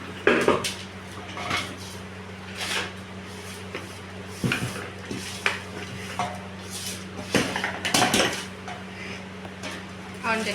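Mango pickle is mixed by hand in a metal vessel, producing scattered clanks and scraping knocks against a low steady hum, with people talking nearby.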